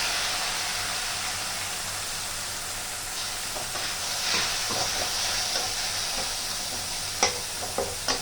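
Ground spice paste dropped into a pan of browned chopped onions frying in oil, a loud steady sizzle and hiss with scraping stir strokes and a few sharp clinks toward the end.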